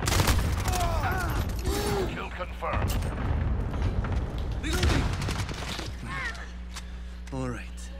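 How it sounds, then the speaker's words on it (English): Cluster strike explosions in a war video game, a run of heavy booms and rumbling blasts that roll on through most of the stretch, loud and dense, with voice chatter over them. "Cluster strike away."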